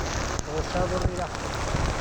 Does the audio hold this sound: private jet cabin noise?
no